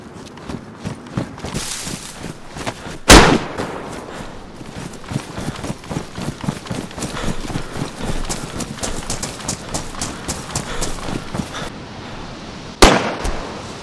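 Sharp gunfire cracks in the survival video game DayZ, two loud shots several seconds apart over a busy backdrop of rapid footsteps and rustling movement.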